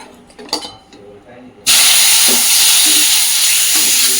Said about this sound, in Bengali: তেলটা গরম হয়ে গেলে মাছ দেব ঝপঝপ করে ভাজতে হবে